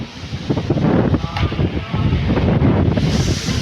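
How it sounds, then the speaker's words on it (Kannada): Strong wind blows hard against the microphone near a temple, roaring and gusting continuously throughout, with a voice speaking faintly underneath. "ನಿಜವಾಗ್ಲೂ ಹೆವಿ ಗಾಳಿ ಇದೆ"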